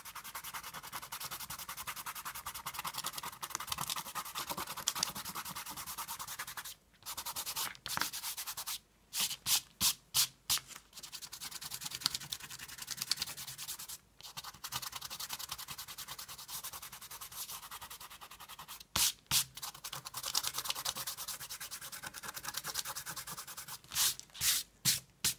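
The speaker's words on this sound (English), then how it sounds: "I'll take off the masking fluid." Dried masking fluid rubbed off watercolor paper by hand, a steady close scratchy rubbing in brisk strokes with short pauses between bursts, no voices.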